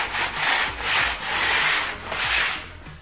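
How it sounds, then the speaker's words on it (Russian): Coarse sandpaper scraping leftover glue off a plastered wall in steady back-and-forth strokes, a close, loud rhythmic rasp repeating about every half second with no talk. "Ну, я вот счищаю грубой наждачкой."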